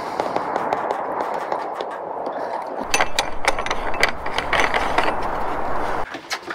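A hand pump fills a boat's diesel tank with kerosene, giving a close, steady mechanical whir with rapid clicking and ratcheting strokes.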